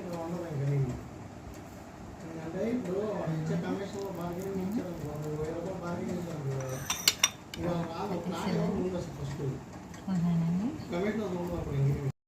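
Homemade burfi being cut into shapes, with knife taps and clinks on a plate or tray scattered through, under continuous talking from a nearby voice.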